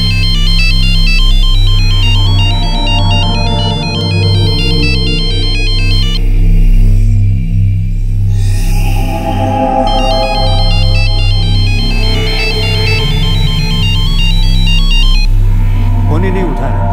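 A loud electronic phone ringtone plays a repeating melody over a throbbing bass, ringing on and on without anyone answering.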